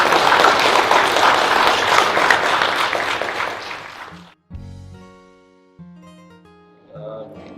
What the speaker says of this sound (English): So y'all give him a great round of applause.